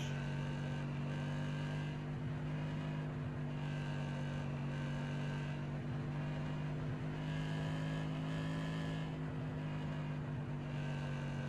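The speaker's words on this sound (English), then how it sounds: "I love the sound of these engines too. Got that deep roar." A deep, steady engine roar drones on without pause, a sustained low hum from video game race cars in iRacing at Phoenix Raceway, heard continuously.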